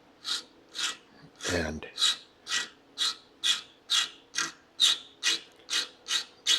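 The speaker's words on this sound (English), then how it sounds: "I like to use a small rasp" Small rasp flattening the ends of a wooden cocktail table part: a regular series of about a dozen crisp, close rasping strokes in even rhythm, with a brief spoken word early on.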